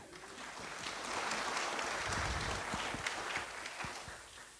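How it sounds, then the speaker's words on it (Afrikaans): A church congregation claps hands during a carol service, a soft diffuse patter of many hands with scattered louder individual claps, fairly quiet and continuous. "Julle is in die kerk, maar julle mag maar hande klap,"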